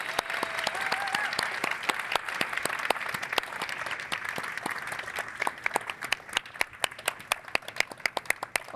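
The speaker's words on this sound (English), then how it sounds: "Let's bring our speakers out for one last round of applause." A tech conference audience applauds the speakers as they come on stage, a loud, dense round of clapping that holds steady and then thins into scattered, distinct claps toward the end.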